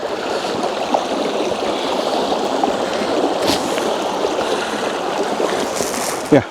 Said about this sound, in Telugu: వాటి కింద వాటర్ వెళ్తూనే ఉంది